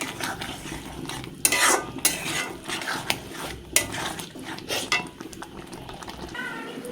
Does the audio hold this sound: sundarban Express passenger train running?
no